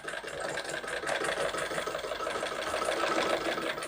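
A sewing machine runs steadily, stitching a lock stitch on a blouse, with a continuous mechanical whir and rapid needle chatter at even loudness throughout, no voices present.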